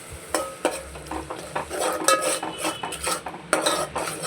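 Tomato paste being stirred into mint rice in a pan, with repeated metal-on-pan scrapes and clinks in an irregular rhythm over a faint background sizzle, close and fairly loud.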